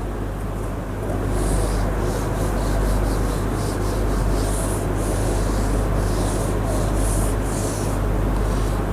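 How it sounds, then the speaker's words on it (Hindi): A cloth or duster rubs out writing on a board in a math lesson, giving steady back-and-forth scrubbing strokes, close and fairly loud, with no talking. "अब इसको जरा हम रब करके जगह बनाएंगे।"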